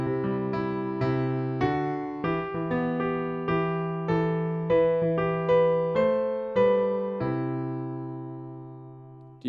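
Solo piano playing the main riff of a song: a steady sequence of sustained chords and melody notes struck in a regular rhythm, close and clear with no voices, ringing out at the end.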